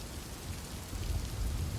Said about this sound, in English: he's waiting there in the pouring rain